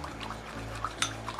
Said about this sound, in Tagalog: lagyan natin ng tubig ng sabon, konting tubig